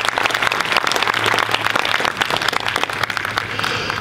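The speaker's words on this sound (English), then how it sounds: "One more time, a round of applause for Alyssa." Audience applause at a school eighth grade band concert, a dense steady wash of many hands clapping throughout, loud and sustained with a low hum beneath.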